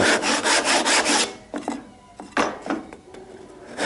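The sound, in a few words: hand saw cutting across wood grain for housing joint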